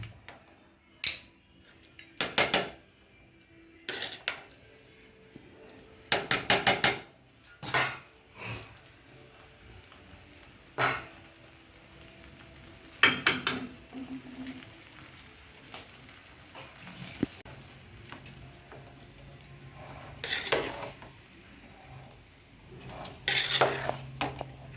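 Utensil scraping and clinking in a pan while mixing fried rice and potato dum over a lit gas stove, with intermittent metallic stirring bursts, close and moderately loud, no talk.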